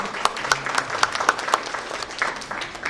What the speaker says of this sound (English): let's give the panelists a round of applause for the feedback